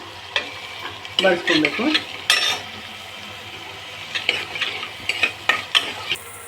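Finely chopped onions fry in hot oil for an aloo methi kurma, giving a steady sizzle broken by several loud bursts of stirring and scraping in the pan, with a few words spoken briefly near the end.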